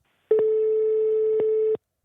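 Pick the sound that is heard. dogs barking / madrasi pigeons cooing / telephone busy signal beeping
telephone busy signal beeping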